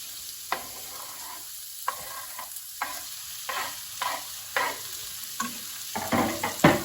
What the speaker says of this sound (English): we're going to stir that in and fry that off until it's fairly brown and the peppers have softened a bit